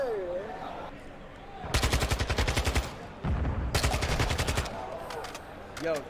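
Automatic weapons in Call of Duty Modern Warfare 2 rattle off in two loud, rapid bursts of gunfire, with game sounds between them and voices heard faintly around the shooting.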